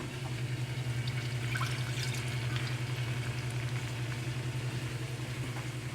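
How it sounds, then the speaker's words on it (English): Cream heating toward a boil in a pot on the stove, giving a steady, continuous bubbling hiss with a constant low hum and no talk over it. "So here's our cream coming to a boil."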